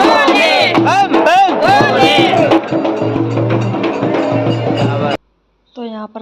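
A large crowd of pilgrims at a temple during Sawan makes a loud, dense babble of voices, and chanting and shouts rise and fall across it. The noise breaks off suddenly, then a single voice speaks briefly near the end.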